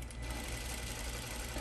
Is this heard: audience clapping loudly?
no